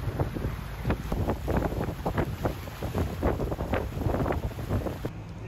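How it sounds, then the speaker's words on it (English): Constant low rumble of a ferry engine and rushing water, with wind buffeting the microphone throughout, on a crossing to Russell. "here we are on the ferry, just left the dock on a quick trip over to Russell."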